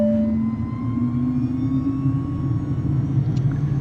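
A Cirrus Vision Jet engine spinning up at start in Microsoft Flight Simulator, a steady low rumble with a faint rising tonal whine building slowly across a few seconds.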